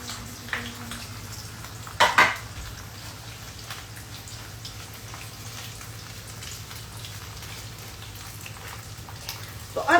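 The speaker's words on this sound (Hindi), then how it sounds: "तो अब इसे मैं शैलो फ्राई होने दूंगी, वेल ऑलमोस्ट डीप फ्राई होने वाला है" Potatoes shallow frying in a generous amount of hot oil, a steady low sizzle throughout, broken by two short clattering bursts from utensils near the start and the end.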